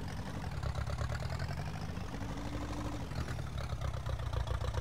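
Steady mid-low drone of a tractor engine pulling a sower in Farming Simulator 19, running continuously at an even idle-like pitch with no talk over it.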